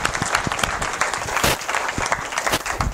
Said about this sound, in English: Hey, you got to give this guy a round of applause.